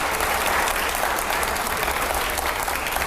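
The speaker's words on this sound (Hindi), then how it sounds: "जोरदार तालियां हो जाए जरा" A seated audience at a public interview event breaks into loud, dense applause, continuous and close for a few seconds with no voice over it.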